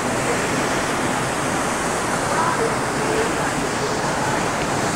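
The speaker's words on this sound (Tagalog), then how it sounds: "Lakas ng falls, eh." Mayang Falls, a waterfall in a rural barangay, roars steadily and loudly throughout as a dense, unbroken rush of falling water with no pauses.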